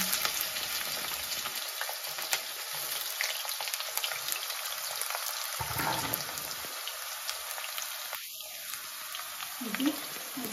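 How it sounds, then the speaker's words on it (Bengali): Potatoes and spiny gourd sizzle and crackle steadily in a pan of hot oil, a dense continuous frying hiss with occasional stirring scrapes, close and alone. "আলুটা অল্প ভাজা করবো, এখানেই ভাজা করে দেব"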